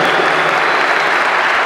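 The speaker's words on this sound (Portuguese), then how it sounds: "Uma salva de palmas para eles, por favor, pessoal." Dense, loud applause from the crowd at a Muay Thai fight event, a continuous wash of clapping hands filling the whole moment.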